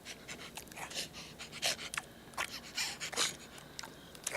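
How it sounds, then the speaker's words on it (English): A dog panting in the video game Days Gone, quick rhythmic breathy huffs repeating close up at a faint level with no talking. "Come on, puppy."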